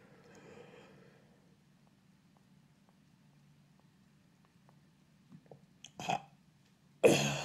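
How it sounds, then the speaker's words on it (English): A single soft burp sounds near the start against quiet room tone, followed later by a few small clicks and a louder rustling bump at the end. "Burp."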